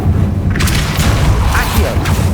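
Fiery spell blasts in Hogwarts Legacy, a dense booming burst that starts loud and keeps rumbling for a couple of seconds, with sharp crackling flares layered on top and a voice shouting over the effects.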